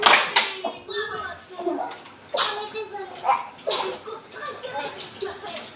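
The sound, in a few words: washing strawberries under running water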